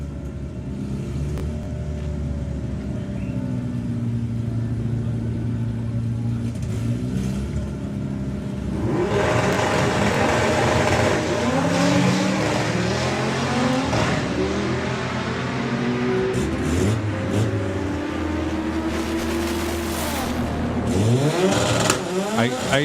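Rob Carter's street-legal Volkswagen Passat drag racing at Greenlight Nationals, a loud engine revving and rising through gear changes, building sharply midway and pulling hard to the end, with commentary talk over it.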